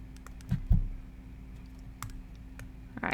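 Calculator keys tapped in a short uneven burst of a few soft clicks, close and quiet, with a faint click or two later and a low steady hum behind.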